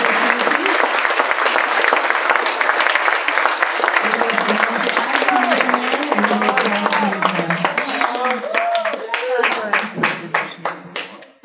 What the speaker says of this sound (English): we all got to give you a round of applause